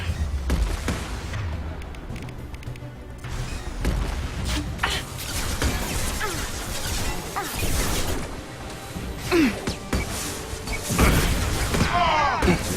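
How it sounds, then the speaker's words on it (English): Rockets burst repeatedly in Mass Effect 2 combat: dense booms, crashes and whooshing shots pile up over a busy battle mix, with a louder blast near the end. "You can see those rockets are just going all over the place"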